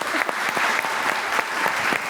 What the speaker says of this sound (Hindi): तालियां जुगन के लिए।